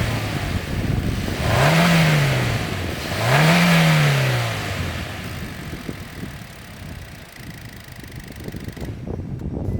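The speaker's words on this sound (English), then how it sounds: "let me just put a B-roll so you can hear the engine" A 2021 Hyundai Elantra with a 1.6-liter MPI engine and CVT revs twice in quick rising-and-falling swells, then settles back to a steady idle hum, heard up close with no talking.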